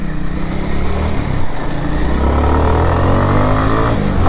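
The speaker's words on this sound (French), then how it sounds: "il fait des montées en régime dignes du MotoGP" A Kawasaki W230 motorcycle engine revs up loudly and close, rising in pitch across several seconds with steady, continuous power and no talk over it.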